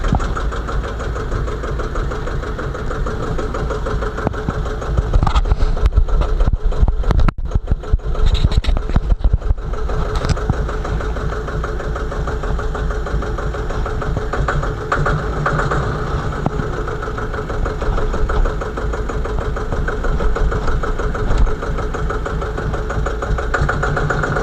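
An old Deutz tractor engine idles steadily and loudly after being brought back to life, a continuous low rumble with a slight knocking pulse running through the whole stretch.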